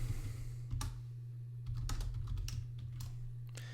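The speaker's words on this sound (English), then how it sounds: "Typing." Typing on a computer keyboard: irregular clusters of sharp key clicks over a steady low electrical hum, close and fairly quiet, with no talking.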